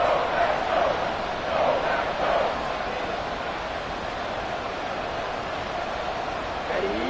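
A stadium crowd in the Madden 23 American football video game roars in a dense, continuous wash near third and goal, with swelling cheers that stay steady throughout while a commentator talks over it.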